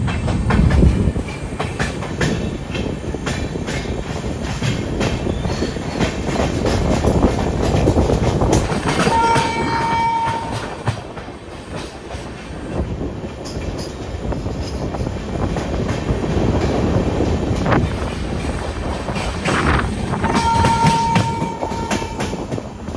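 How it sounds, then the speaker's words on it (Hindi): The Taj Express passenger train rumbles steadily along the rails with rhythmic clatter, and a high metallic wheel squeal rises twice as it rounds the curve at Raja Ki Mandi station. "राजा की मंडी में अपनी ट्रेन पूरी एक कर्व ले लेती है"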